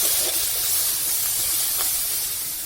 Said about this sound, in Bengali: মাছ ভাজা হয়ে গেছে, ওই তেলের মধ্যে একটা কাঁকড়া দিয়ে দিলাম,